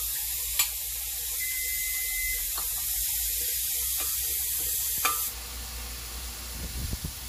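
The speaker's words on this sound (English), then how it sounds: "I'm going to put a little bit more of olive oil. And then we're going to saute the onions." Onions and garlic sautéing in olive oil for stuffed bell peppers, a continuous hissing sizzle with a few sharp stirring clicks, fading to quieter sounds near the end.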